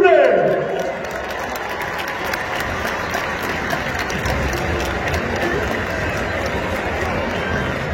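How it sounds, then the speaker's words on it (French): Stadium crowd at Stade Océane in Le Havre applauding about forty club legends during an anniversary match against Caen, a broad sustained roar of clapping and cheering that stays loud throughout, with a voice over the public address. "Sous vos applaudissements, s'il vous plaît."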